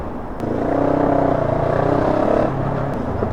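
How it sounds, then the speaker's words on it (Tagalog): Road traffic on a highway ride from Manila heading toward Romblon, a loud continuous engine drone and whir of vehicles moving close by, steady for a few seconds before easing off, with no talking. "Traffic."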